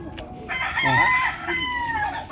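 A rooster crows loudly nearby, one long rising and falling call, with faint clucking from hens around it.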